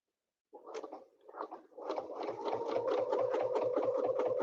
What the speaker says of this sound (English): I'm double stitching on the top on all of these